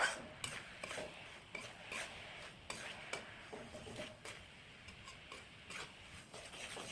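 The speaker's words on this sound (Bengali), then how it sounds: "এবার গুড়টা নাড়িয়ে চাড়িয়ে গুড়টা যখন গলে যাবে, গলাতে হবে গুড়টাকে ভালো করে" Jaggery melting in a pan is stirred with a utensil, giving quiet, irregular scraping and light clinking strokes against the pan, with no voices.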